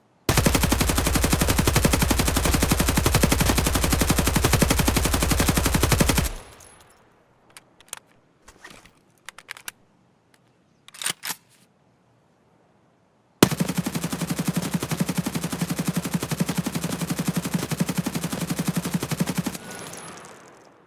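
Sustained automatic gunfire from a high-recoil, large-magazine weapon in Escape From Tarkov: two long, loud, continuous bursts separated by a quieter stretch of scattered shots and clatter.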